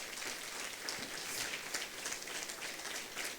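Congregation clapping in a Spanish-language church service, a soft, steady wash of applause heard from a distance without pause.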